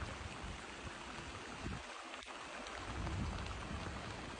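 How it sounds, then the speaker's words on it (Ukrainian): Rain falling steadily, a soft continuous wash of drops, faint and a little distant with no voices. "Дощ іде, ну дуже така погода клас"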